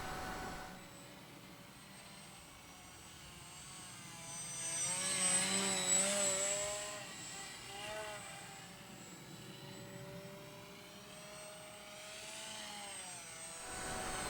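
An E-Flite Inverza RC airplane flies overhead during fast rolls, its electric motor giving a steady whine that rises and falls in pitch as it swoops closer and louder mid-flight, then fades away, with no talk.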